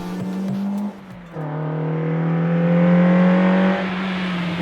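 A 1987 Toyota Corolla FX16 drives off after a wheel alignment and steering upgrade, its engine droning steadily and rising in pitch as it accelerates through a gear, with a brief dip near the start and no talk.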